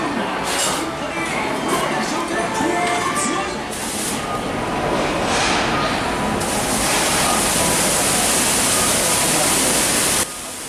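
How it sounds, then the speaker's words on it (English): Falling water at the printed water clock in Osaka Station City makes a loud, continuous rushing splash, steady throughout and cutting off abruptly near the end. "This water clock can be found at Osaka Station City."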